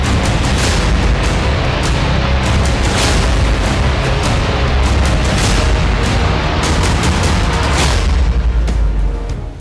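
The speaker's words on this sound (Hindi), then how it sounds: "पुतिन के ऑपरेशन विंटर की तरह मिसाइलों के बरसात शुरू हो गई है" Missile strikes exploding in a dense, continuous barrage, with heavy booms and sharp cracks overlapping throughout and no pauses between them, loud and close.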